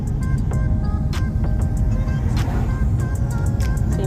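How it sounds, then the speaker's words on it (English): A car drives along a country road in Wales near Bristol, its steady engine and tyre rumble filling the sound, with faint higher clicks and ticks scattered over the continuous drone. "Taking you for an afternoon drive in Wales, near Bristol."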